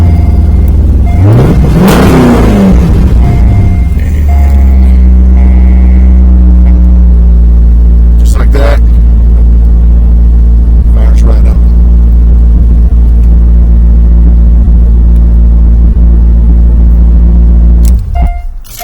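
A 2001-2004 C5 Corvette engine is started with a switchblade flip key: a quick crank catches into a loud, close rev that swells and falls, then settles into a steady deep idle rumble that runs on until it cuts off near the end.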